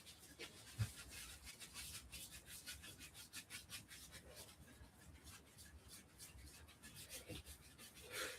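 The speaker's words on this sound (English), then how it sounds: "when I sand the finish on it" Sanding over the finish on a wooden bardiche halberd shaft makes quiet, rhythmic back-and-forth rubbing strokes, close and faint, with no talking.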